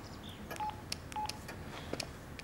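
A telephone dials a number, a short run of distinct electronic tone beeps at an uneven pace, fairly quiet against low background noise.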